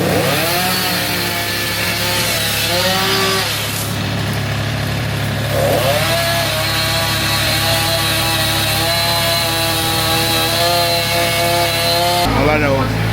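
A chainsaw cuts wood near a house, its engine whining loud and close without pause. The pitch swells and dips as the saw revs and bites into the wood.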